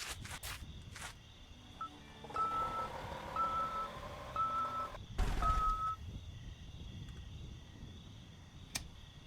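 A dump truck in the game Demolish and Build 2018 sounds its reversing alarm, a string of evenly spaced high beeps at moderate volume, mixed with a few clicks and a short thud.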